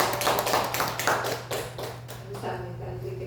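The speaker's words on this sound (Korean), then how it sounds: "우리 환영의 박수 올려드리겠습니다." Applause in a church service welcoming two visitors, a short burst of steady clapping from the congregation over a constant low hum, fading slightly toward the end.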